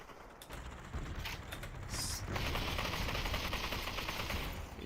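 Bursts of rapid automatic gunfire crackle through a firefight in the VR battle royale game Population: One, with dense overlapping shots and mechanical clatter, moderately distant, and no talk.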